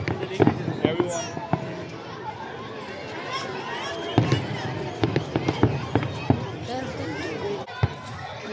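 New Year fireworks pop and bang in scattered, irregular bursts, some sharp and close, over a bed of crowd chatter and nearby voices talking throughout.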